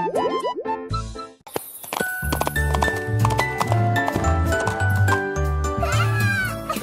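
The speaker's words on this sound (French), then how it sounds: "avec les petites cloches qui chantent à nouveau, donnant des coups de sabot et tournant en rond" Rhythmic hoof clip-clops of a dancing donkey with little bells jingling alongside, set against steady children's song music, lively and close.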